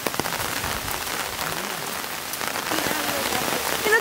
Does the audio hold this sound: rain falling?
yes